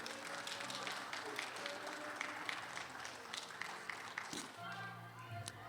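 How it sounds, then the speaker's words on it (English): Audience applause for a guest speaker at an evening event in the Old State Capitol, a steady wash of clapping hands lasting several seconds, with some voices and crowd noise mixed in. "may we give Mr. Jouett another round of applause"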